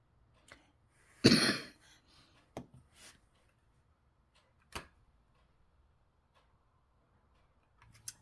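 One harsh cough stands out, followed by a few short, sharper throat sounds spaced apart in an otherwise quiet room.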